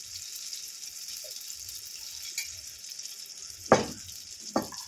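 Batter frying in hot oil in a wok sizzles with a steady hiss, close and even, with a couple of sharp clatters near the end.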